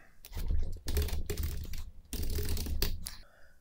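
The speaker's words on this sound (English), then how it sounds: "If you want to query a DNS server to get the IP of a single domain, type the following." A Linux command is typed on a computer keyboard in quick, close bursts of clattering keystrokes, with short pauses between the runs and no talking.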